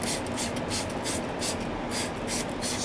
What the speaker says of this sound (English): spray it around the edges